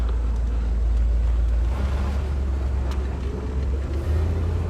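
A red 1965 Corvette convertible with an automatic transmission drives along with a loud, steady low engine drone and road rumble. The pitch drops slightly partway through, as on a gear change, and no one speaks.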